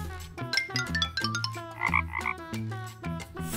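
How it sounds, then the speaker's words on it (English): Frog croaking over a bright musical backing, with a short burst of croaks near the middle of a children's animal alphabet song. "Frog."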